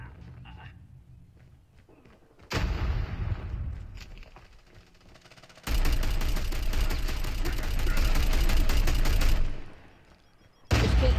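Bursts of automatic gunfire in COD Mobile rattle loud and close in two long stretches with a short final burst, separated by quieter game ambience, and a voice speaks in the gaps.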